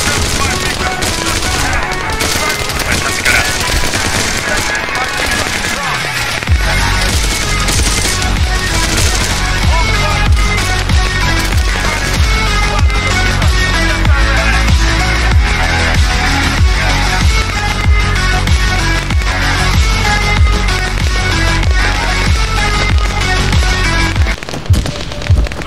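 Gunfire in the video game ArmA 3 during a battle royale match: dense, loud bursts of shots crackle almost continuously, like a fusillade, under a busy game soundscape.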